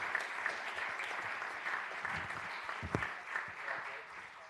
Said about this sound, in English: Please give them a round of applause and celebrate their victory as they come forward to be recognized.